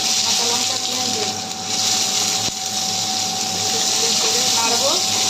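Onions and green chilies fry in a hot pan of oil spiced with a bay leaf and panch phoron, giving a loud, steady, unbroken sizzling hiss throughout.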